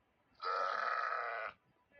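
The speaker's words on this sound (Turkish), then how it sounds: "Meee deyip deyip duruyor bu." A goat gives a single drawn-out bleat lasting about a second, close and loud against a quiet background with faint rustling before and after.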